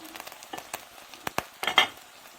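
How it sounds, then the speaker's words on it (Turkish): Hot peppers fry and get stirred in a pan for shakshuka, with a soft sizzle broken by sharp clicks and scrapes of a utensil against the pan. The clip ends in a brief louder burst of spitting. "biberlerimi koydum. Acı biber görüyorsunuz. Kavuruyorum."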